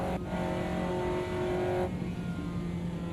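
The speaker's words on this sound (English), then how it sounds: "the engine revs dying down as you lean into the tyres." A race car engine in the Automobilista 2 racing game holds a steady high drone, then its revs drop and settle into a lower hum after a couple of seconds, loud and close with no talk.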